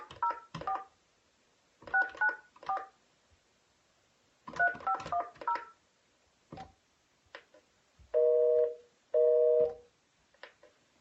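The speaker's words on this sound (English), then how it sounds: "I know I'm calling on a landline, on a dinosaur phone, but who's got a busy signal?" A landline phone dials out in quick bursts of touch-tone beeps, followed by two long, loud pulses of a busy signal near the end, with no talking over it.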